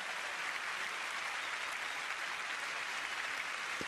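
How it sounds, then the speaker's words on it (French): A Roland Garros tennis crowd at a 1999 women's first-round match applauds after the first set, with steady sustained clapping from a large audience, heard at a distance and without a break. "Et bien voilà la première manche gagnée par Amélie Mauresmo avec les applaudissements."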